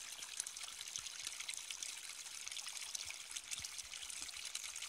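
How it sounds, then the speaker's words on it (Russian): Spring water trickles steadily in a soft, continuous dribble with faint splashy pops, quiet and close, no voices. "Хотя вот из-под родника течет постоянно"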